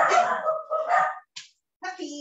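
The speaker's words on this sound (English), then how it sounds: "Puppies." Small puppies yip and bark in short, high-pitched bursts with gaps of silence between them, close by and fairly clear.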